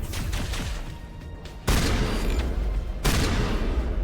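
Gunfire from the video game Mass Effect: sharp, loud bursts of shots, with two heavy blasts that keep booming and rumbling through the back half, no talking.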